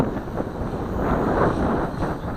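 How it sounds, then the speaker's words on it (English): Wind outdoors at a model helicopter flying field, roaring and buffeting against the microphone as a continuous, close rush with no talk. "The wind's coming from in front of me,"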